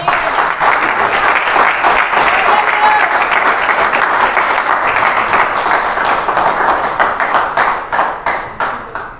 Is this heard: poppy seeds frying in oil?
no